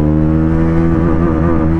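A 2024 Bajaj Pulsar NS400Z motorcycle engine pulls hard at high revs, a loud, close, continuous droning roar with rising pitch and no talk.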